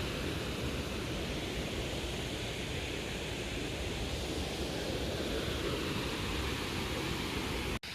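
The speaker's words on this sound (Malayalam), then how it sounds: "വെള്ളം ഇങ്ങനെ ഒഴുകി വരികയാണല്ലോ കുറേ വരുന്നുണ്ട് ഇങ്ങനെ" Water released from the opened Peechi Dam in Thrissur rushes in a continuous, loud broadband roar that holds steady throughout and cuts off abruptly at the very end.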